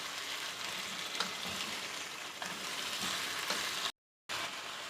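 Sliced potatoes for aloo ki katlian, about a kilogram cut to even thickness, sizzle steadily in a pan of hot oil, a dense continuous frying hiss with a few soft stir bumps and one brief cutout near the end.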